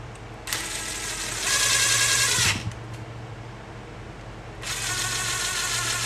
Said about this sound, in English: Hopefully the screws will go in all the way.